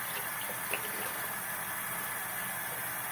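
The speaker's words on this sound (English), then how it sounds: "Rinse that off." Running water rinses off skin, a steady soft hiss and splash that goes on without a break, faint and with no talk.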